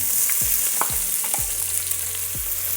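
Two sliced large onions frying in hot ghee with bay leaf, cloves and cardamom for chicken biryani, a steady loud sizzle with several soft stirring scrapes, no voices.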